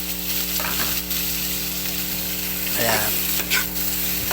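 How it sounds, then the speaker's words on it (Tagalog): Tomatoes sizzle and fry steadily in a pan, a continuous close crackle with a few stirring scrapes, while a voice speaks briefly over it. "Lulutuin lang po natin yung kamatis."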